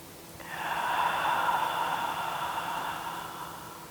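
One long, slow, deep breath during a yoga breathing exercise, a soft airy rush that swells and then fades, close to the microphone with no talking.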